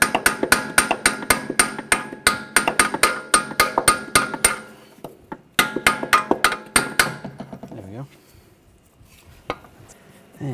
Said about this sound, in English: hammer it down.